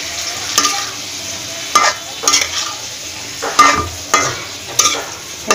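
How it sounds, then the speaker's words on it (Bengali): Radish and puti fish curry being stir-fried in a pan, with repeated scraping stirs at an irregular rhythm over a soft sizzle, close and clear with no talking. "এখন একটু কষিয়ে নিব।"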